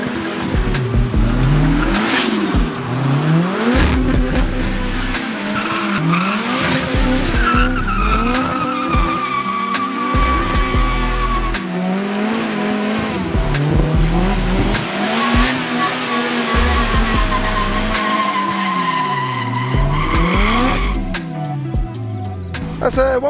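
A drift car of nearly 600 horsepower with launch control launches and drives hard, its engine revving loudly and rising in pitch through repeated shifts while the tires squeal continuously, with faint voices underneath.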